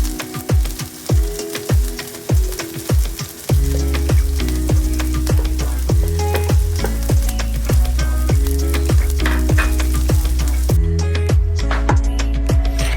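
Onion frying for corned beef fried rice crackles loudly in a hot pan, a dense close sizzle over repeated sharp stirring clanks that keep a quick, uneven rhythm throughout.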